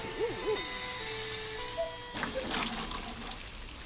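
Water splashes out of a watering can in a continuous bright rush that stops abruptly, followed by dribbling and trickling, preceded by a few short electronic chime tones.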